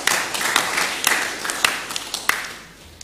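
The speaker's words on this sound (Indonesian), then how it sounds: "Tepuk tangan bagi mereka semua." A crowd applauding at a Eucharist celebration and blessing of a building, a steady patter of many hands clapping at moderate volume that tapers off toward the end.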